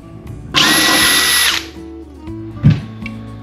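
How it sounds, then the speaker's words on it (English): A power drill whines at high speed for about a second, then stops; a short knock follows in an otherwise quiet room. "we'll mark our holes, and then we can drill those out"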